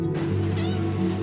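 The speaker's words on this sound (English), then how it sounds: "Our cats get a little nervous on travel day." Pet cats meow nervously inside an RV on a travel day, a single drawn-out wavering cry over a steady low engine and road hum.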